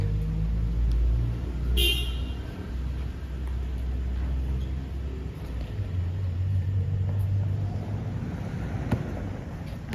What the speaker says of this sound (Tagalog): Sasakyan.